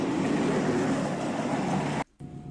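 A CC206 diesel locomotive hauling three wagons slowly up a grade on an Indonesian railway, with a continuous loud engine rumble and rolling noise that cuts out abruptly near the end before resuming more quietly.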